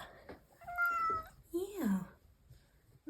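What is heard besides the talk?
cat meowing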